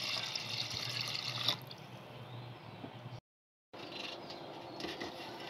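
Water poured into about a kilogram of pure cow's milk in a pot, a soft trickling and dripping stream that fades partway through, a brief dropout, then faint liquid sounds return; no talking.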